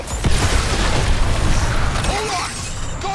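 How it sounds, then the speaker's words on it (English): A cannon in a superhero video game deploys its beam weapon with a dense, loud mechanical roar and rumbling booms, followed by whirring, rising synthetic tones as it powers up. "The cannon is deploying its beam weapon."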